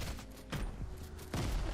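Several grenade blasts in a Fortnite match, a quick pair of muffled booms followed by another, fairly faint and compressed, with no talking.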